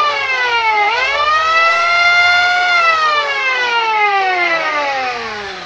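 An old sawmill saw machine with twin blades cuts wood for doors, giving off a loud, close, harmonic whine. The pitch dips sharply, then rises and slowly sinks again as the blade loads and runs free.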